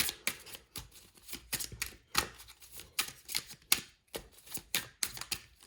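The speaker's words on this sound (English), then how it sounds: "now I can shuffle these cards" A deck of tarot cards being shuffled by hand, with rapid crisp riffles and snaps coming in irregular bursts, close and fairly loud, with no talking.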